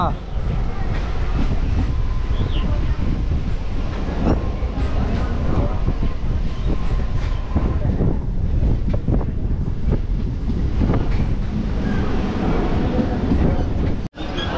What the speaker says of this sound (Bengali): এই কাঁথি ছেড়ে বেরিয়ে গেল আমাদের ট্রেন।